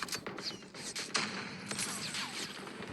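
Rapid gunfire from a Call of Duty match, a busy run of sharp broadband cracks and thuds at irregular intervals, moderately loud with a steady background of battle noise.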